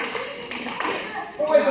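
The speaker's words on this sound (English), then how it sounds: "Everyone clap for him." A group of schoolchildren in a classroom clap for a classmate during a lesson about crabs, with scattered light claps mixed under children's and adults' voices.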